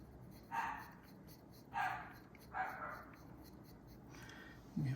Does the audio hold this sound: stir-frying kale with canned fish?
no